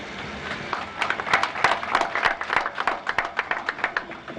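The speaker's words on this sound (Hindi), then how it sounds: "इसमें ताली धीरे धीरे बजा रहे हो" Audience at a Rajasthan chief minister's event clapping in scattered, unsynchronised bursts, moderately distant and fairly faint, with irregular claps running throughout.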